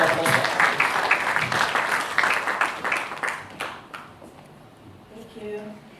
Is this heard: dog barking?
no